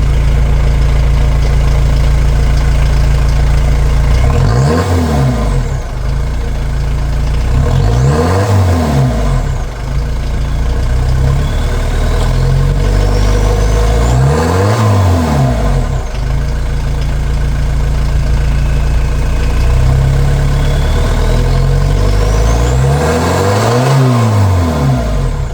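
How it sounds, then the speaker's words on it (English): VW T4 engine with a custom side-exit exhaust idles steadily and is revved four times, each blip climbing sharply and falling back to a low throbbing idle, loud and close, no voices. "give it a few revs."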